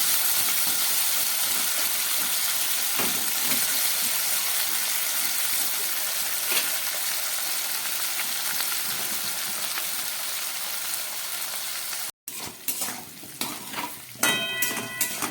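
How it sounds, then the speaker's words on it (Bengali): Potatoes for aloo posto frying in a pan and being stirred: a steady broadband sizzle throughout, with scraping stir strokes breaking through near the end after a brief cut. "গ্যাস কমিয়ে আলুগুলোকে খুব ভালো করে এবার আমাকে ভেজে নিতে হবে"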